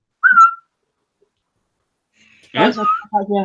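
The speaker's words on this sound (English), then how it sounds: "So the whistle stops them fighting." A single short, high whistle blast rings out, then silence, followed by people talking.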